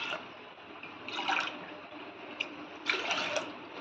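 Water poured from a glass onto washed chana dal in a vessel, two soft splashing pours a couple of seconds apart over a quiet, steady background hiss.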